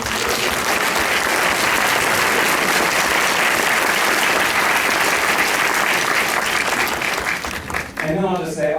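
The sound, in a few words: audience applause at film festival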